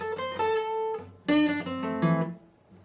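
The fourth part of a guitar solo is played at full speed, a quick run of bent and ringing electric guitar notes heard alone over a few seconds.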